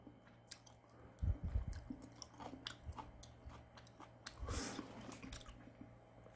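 Someone chews a mouthful of store-bought budae jjigae with ham and fresh vegetables, soft squishy bites and slurps close to the mic, a louder burst of chewing midway, with no talking.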